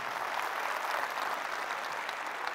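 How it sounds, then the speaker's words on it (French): An audience at a comedy show applauds for Karim, a dense, steady wash of clapping from many hands that holds at an even level throughout. "Applaudissements pour Karim"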